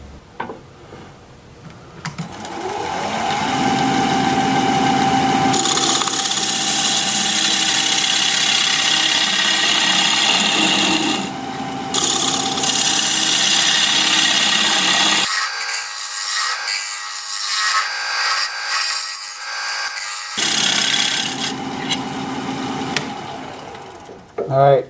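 A wooden jelly bean bowl spins on a wood lathe while a gouge cuts it, giving a continuous scraping, rubbing hiss over a motor hum. Brief pauses break the sound where the cutting stops, and the motor quiets for a few seconds midway.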